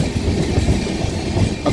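A passenger train runs alongside a Howrah local on an Eastern Railway line, its steady rumble and rhythmic wheel clatter loud and close throughout, with no voices.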